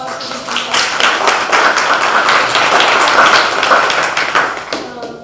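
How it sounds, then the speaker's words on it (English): Audience at a chamber event aboard HMS Diana applauding, dense sustained clapping from a sizable crowd that holds steady for several seconds before tapering off. "Round of applause for this."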